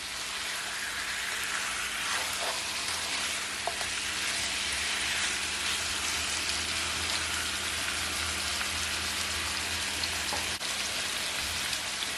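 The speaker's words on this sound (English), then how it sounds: "So now that I add everything, I'm just gonna give it a stir" A pot of stew chicken being stirred on a stove, with a steady, close sizzling and bubbling hiss that runs unbroken throughout, plus faint scrapes of the spoon and no voices.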